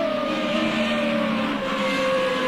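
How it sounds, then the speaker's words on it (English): Race car engines from a Formula Renault racing video game drone steadily and loudly, a sustained high whine with a slowly falling pitch and no talk. "the engine noises in the background now will drown the echo"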